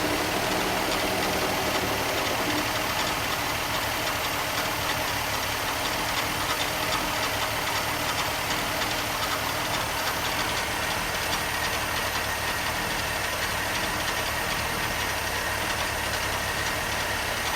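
A 1969 Mercedes 280SE engine idles steadily, a constant rough mechanical hum with faint knocking, unchanging and fairly close.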